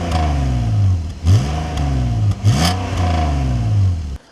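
BMW E46 330ci straight-six exhaust with its valve clamped open, revving repeatedly from idle in rising and falling sweeps, loud and close, ending abruptly as the engine cuts.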